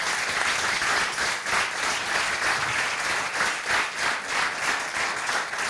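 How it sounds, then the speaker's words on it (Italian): Audience applause at the opening of a gathering in a Chamber of Commerce hall in Frosinone, a sustained, even round of clapping from a fairly large crowd, moderately distant and without speech. "Facciamoci un applauso"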